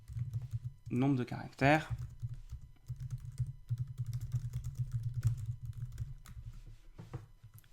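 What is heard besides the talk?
typing on a computer keyboard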